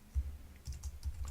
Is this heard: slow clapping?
no